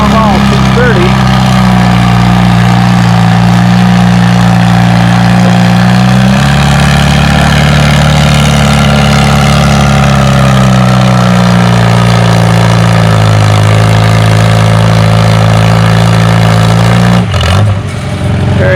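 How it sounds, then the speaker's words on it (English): A Farmall 630 tractor at a fall tractor pull, its engine droning loud and steady with a deep, shifting tone over the full stretch, rising and falling slightly, then cutting out briefly near the end. "Got Sean Boyer back on a new ride at the Farmall 630"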